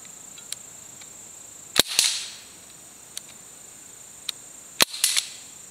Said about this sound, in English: So I'm going to take a couple offhand shots here.